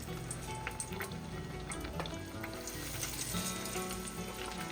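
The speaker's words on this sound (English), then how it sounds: "I'm just gonna fry these until they're golden brown" Trout pieces coated in crushed Takis fry steadily in hot oil, a soft continuous crackle and bubbling with scattered pops, close and moderately quiet, with no one talking.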